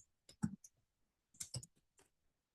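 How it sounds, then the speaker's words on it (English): Light typing on a computer keyboard: a few scattered, soft keystroke clicks in two short bursts, close and quiet, with no talking. "So I'll type in Tim shalom."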